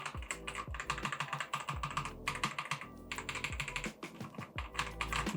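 A budget mechanical keyboard fitted with a tape mod and new switches is typed on in fast, continuous bursts of close, crisp, thocky keystrokes, with a brief pause partway through.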